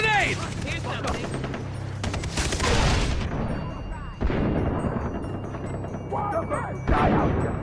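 Far Cry 3 combat with a grenade blast and dense gunfire, loud repeated bursts and a sharp explosion mid-clip, mixed with shouting voices throughout.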